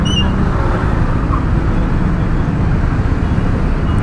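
Road traffic in Makati after rain, heard from a motorcycle, forms a dense, constant roar of engines and wet road noise with a brief horn-like tone at the start, close and unbroken.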